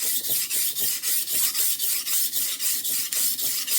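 Rhythmic rasping scrapes of a knife blade pushed along a sharpening stone with a fixed angle guide, a steady series of strokes about every quarter second, close and fairly quiet.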